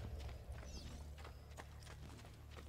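Horse hooves in Assassin's Creed Brotherhood, a steady faint clip-clop that keeps going over low ambient game noise.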